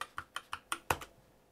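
A password is typed on a computer keyboard: about seven quiet, evenly spaced key clicks over a second and a half, with the last strike slightly firmer, close and alone.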